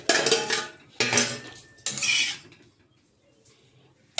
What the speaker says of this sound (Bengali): তো চলুন ডিম ভাজাটা নিয়ে নিই